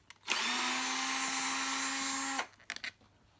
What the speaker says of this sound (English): I am going to be using a drill just to get this done a little bit faster